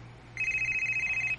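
Telephone ringing in a radio drama: a single electronic warble, a steady trilling tone of about one second, clear and close over a quiet background.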